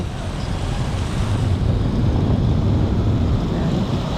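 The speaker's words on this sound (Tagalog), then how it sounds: "Fountain." Water splashing from a plaza fountain outdoors, heard as a steady, loud rush of falling water with broadband noise that stays constant throughout and shows no talk.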